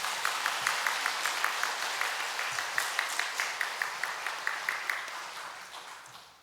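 A church congregation at a Korean Sunday service claps to welcome newly baptized children, a steady roomful of applause with a regular rhythmic pulse that carries on for several seconds, then fades out.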